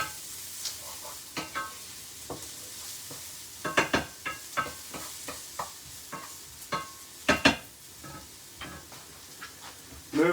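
Finely chopped chilli stirred through a hot sizzling pan for a jerk-style chicken stew, with repeated scraping strokes over a steady frying hiss, close and moderately loud, no talking.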